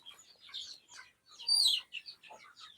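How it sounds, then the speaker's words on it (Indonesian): Hungry chickens in a small garden squabble, giving sharp, faint clucks and squawks in a few quick bursts, fairly close with no talk. "ini ayam kita pun udah berantem karena udah lapar"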